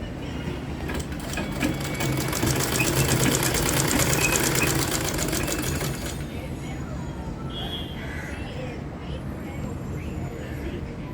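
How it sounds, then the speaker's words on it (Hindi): A sewing machine runs fast and steady while stitching a blouse, a loud close-up rattling whir that stops after about six seconds and leaves quieter room sound. "अच्छे से उसको मोड़ते हुए हम सिलाई मारेंगे बरोबर तक"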